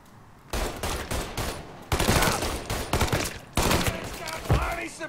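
Gunfire during a shootout in the video game Mafia 3: loud, dense bursts of automatic shots in several rapid volleys, with brief gaps between them and game dialogue mixed in.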